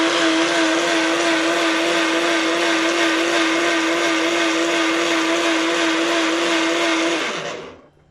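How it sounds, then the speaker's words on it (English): A blender whirs steadily at high speed while blending pili pili sauce. The motor hum stays loud and constant for several seconds, then winds down to a stop. "just make sure you blend it"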